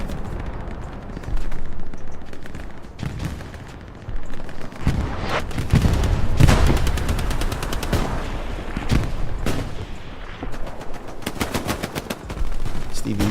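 Gunfire in the Hell Let Loose battle on Omaha Beach comes in long, rapid machine-gun bursts and scattered single shots, with heavier booming blasts in the middle, loud and continuous over distant battle noise.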